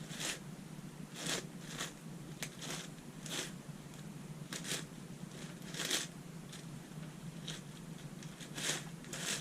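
A 6x8x10 ultimate shapeshifter twisty puzzle is turned layer by layer in half turns, giving a string of crisp plastic clicks and rasping slides at an irregular pace, quiet and close.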